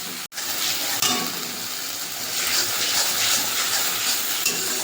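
Ginger and green chilli paste frying in a pan for cauliflower rezala, a continuous close sizzle with occasional stirring scrapes, preceded by a brief sharp clink at the start.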